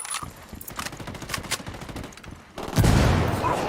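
Gunfire from the video game Ghost Recon Wildlands: rapid overlapping bursts crackle throughout, then a heavy, loud sustained volley of shots swells near the end.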